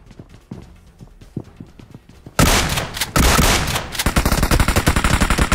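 Gunfire in a mobile shooter game: scattered single shots at first, then loud sustained automatic bursts firing in rapid, steady rhythm close up.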